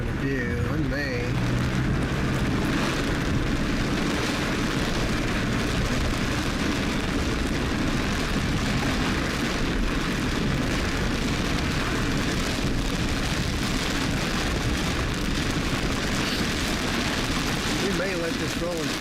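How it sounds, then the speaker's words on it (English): Steady, dense rain and road rumble fill the cabin while driving through a morning storm in Oklahoma, a constant loud wash that never lets up over the whole stretch. "driving in this rain is just not the greatest visual experience here"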